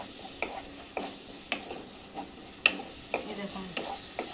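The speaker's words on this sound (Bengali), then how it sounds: "এই দেখুন লাল লাল করে মশলাটা কষানো হয়ে গেছে।" Red spice paste being fried in a pan for a mustard fish curry with small puti fish, with soft stirring scrapes recurring roughly every half second over a faint, steady sizzle.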